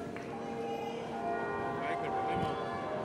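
Church bells chime the twelve o'clock hour in a ringing, sustained wash at a European archery championship, with crowd murmur around them.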